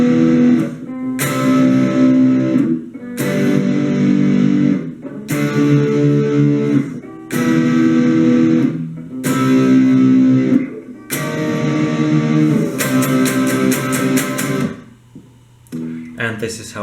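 Electric guitar plays the pre-chorus of a song, a series of loud strummed chord bursts in a stop-start rhythm with short gaps between them, ending in a quick run of choppy strums before fading.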